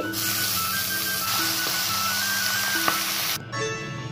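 Chicken pieces hit a pan of fried onions and sizzle loudly and steadily, with a few brief scraping stirs, before the frying suddenly drops back near the end.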